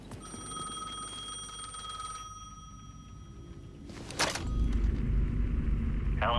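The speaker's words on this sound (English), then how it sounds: "payphone was ringing again." A payphone in the video game Alan Wake 2 rings with a steady tonal electronic trill for several seconds, then gives way to a burst of noise and a louder low rumble.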